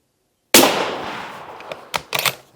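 Single sharp rifle shot from a Mauser M18 Pure firing 165 grain SST ammunition outdoors in Scotland, a loud crack with a long decaying tail, followed by a few fainter clicks of the bolt and ejection.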